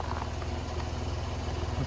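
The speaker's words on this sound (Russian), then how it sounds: "Ну двигатель работает, конечно, как часики." Engine of a Karakat all-terrain vehicle running near a river in the taiga, a steady low throbbing drone with even pulses, close and constant throughout.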